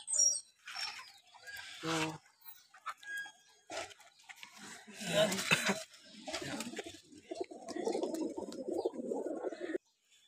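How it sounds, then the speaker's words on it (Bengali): Racing pigeons at a home loft in Savar, Bangladesh, coo and rustle their wings in bursts beneath ongoing conversation, with a steadier low murmuring stretch near the end. "তো আমি কিছু কবুতর দেখাইতে যাচ্ছি আর কি।"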